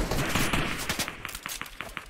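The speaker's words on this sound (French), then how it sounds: "Les gars, je me fais tirer" Rapid video game gunfire breaks out in a battle royale match: a dense burst of overlapping shots, then a string of sharp, evenly spaced single cracks, fairly close and loud.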